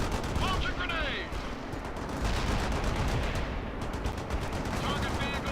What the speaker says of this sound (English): Launch a grenade!